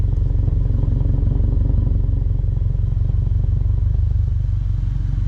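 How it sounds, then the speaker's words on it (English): A 2022 Subaru WRX with an Extreme cat-back exhaust idling: a steady, loud, toned rumble with a fast pulsing throb that holds even throughout, and no talk over it. "So there's your rumble. It is not very, I would say, rumbly. It's got a tone to it."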